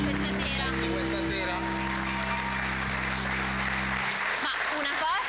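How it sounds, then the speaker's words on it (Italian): A studio audience applauds the sponsors of an Italian television football show after a Napoli–Juventus match, a sustained spread of clapping heard under held musical tones and voices that drop out near the end. "vorrei un applauso insomma anche per loro per questa sera"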